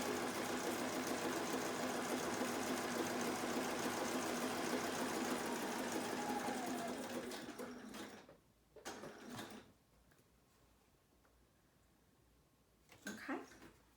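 A sewing machine stitches a zigzag onto a journal cover, running steadily and fairly loud for about eight seconds before stopping, followed by a couple of short mechanical clicks and brief whirs.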